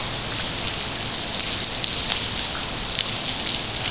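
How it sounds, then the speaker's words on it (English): Steady rain mixed with light snow falling outdoors in January, a dense, even patter and hiss with faint scattered drips and no break throughout. "It's actually raining and snowing."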